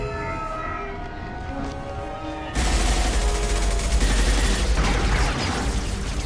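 Gunfire erupts in Mass Effect 2, a sudden loud wall of rapid shots and booms that cuts in after a quieter stretch of background game music and continues densely to the end.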